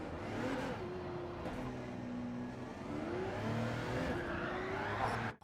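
An Audi race car in Gran Turismo 7 roars steadily throughout, its engine pitch rising and falling through gear changes as it powers out of corners, loud and continuous with a brief dip midway and a faint tyre squeal.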